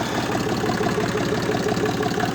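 A tractor's diesel engine, a T-25, idles with a steady low rumble and even knocking pulses, close by and continuous.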